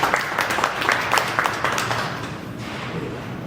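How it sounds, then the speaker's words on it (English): A small audience at a Hamilton business event claps with distinct individual hand claps that thin out and fade after a couple of seconds. "Give him a round of applause"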